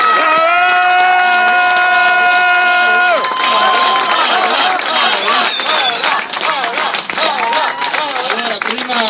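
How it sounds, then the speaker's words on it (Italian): A crowd at a Lega political rally in Godega di Sant'Urbano applauds mayoral candidate Paola Guzzo. A held tone gives way to dense, sustained clapping and cheering, loud and close, with voices mixed in. "facciamogli un applauso"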